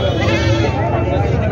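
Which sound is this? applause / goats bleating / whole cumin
goats bleating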